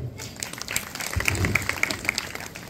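A church congregation claps together at an anniversary service, a dense burst of hand claps rising around the middle and continuing steadily, with a hint of voices underneath.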